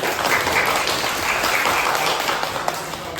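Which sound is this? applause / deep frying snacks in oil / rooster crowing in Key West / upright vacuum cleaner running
applause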